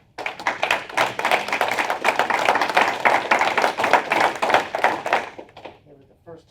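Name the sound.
applause at county commissioners meeting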